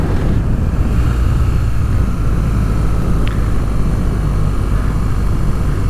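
A 2023 BMW R nineT with a 109-horsepower engine drones steadily while riding, loud and constant under heavy wind rush, with no talking.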